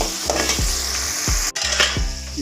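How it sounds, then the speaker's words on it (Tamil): Crushed onions sauté in a hot pan for a village-style brinjal curry, giving a loud continuous sizzle broken by several rhythmic stirring scrapes close by. "நசிஞ்சு வெங்காயம் நசிகிற அளவுக்கு வதக்கணும்."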